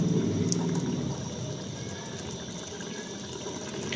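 Oil and ghee poured into meat cooking in a pan, a close steady sizzling hiss, louder at first and then settling, with no talk.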